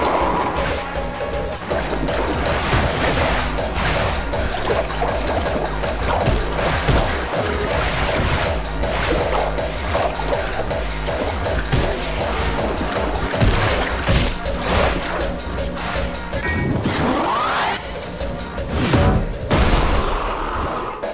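Loud blasts and crashes from exploding barrels in the video game Anger Foot, dense repeated bursts over a continuous wall of game noise lasting throughout.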